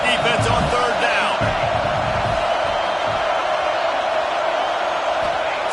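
Sustained roar of a stadium crowd in a college football video game, getting louder as the defense lines up on third down, a steady wash of noise with a few claps and thumps early on.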